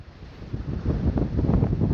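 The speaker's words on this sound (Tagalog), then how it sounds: "Ngayong araw po mga idol ang pinakamalakas na hangin at alon." Strong wind at sea on a small fishing boat buffets the microphone in low, gusty rumbles that swell louder over two seconds, with a faint rushing of waves beneath.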